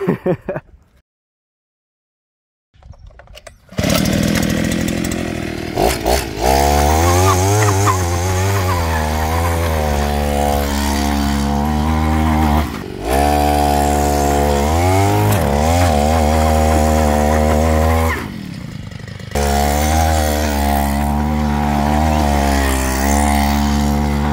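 Small two-stroke brush cutter engine driving a bicycle through a friction roller: after a brief silence the motor starts and runs loud and close, its pitch rising and falling with throttle, dipping twice before revving again.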